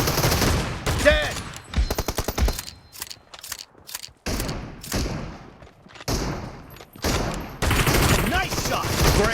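Bursts of shotgun and rapid gunfire from a BGMI team deathmatch, loud and close, in sharp repeated volleys broken by short gaps, with game voice announcements between them.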